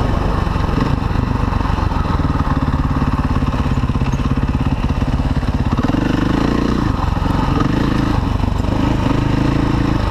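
A Kawasaki KLR motorcycle engine drones loud and close with a steady rumble throughout, and the pitch shifts partway as the rider changes throttle.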